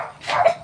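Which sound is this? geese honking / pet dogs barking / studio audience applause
pet dogs barking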